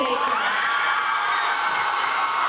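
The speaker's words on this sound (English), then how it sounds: "Cheering and chanting in a crowded gym as Allie Baker and Renee Cruz become royalty." A packed school gym erupts in sustained cheering and chanting as two students are crowned royalty, a loud, continuous wall of crowd voices with whoops and shouts.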